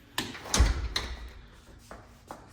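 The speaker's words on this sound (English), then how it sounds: "Got the glass door, not a pivot, it's on a hinge." A hinged glass front door of a large house swings open, giving a sharp click and thud of the latch and frame, followed by fainter knocks and shuffling nearby, with no talking.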